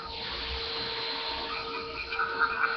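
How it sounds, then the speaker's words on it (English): A vacuum cleaner runs nearby with a steady, loud whirring drone that holds throughout, with faint voices briefly audible toward the end. "Vacuum's on again."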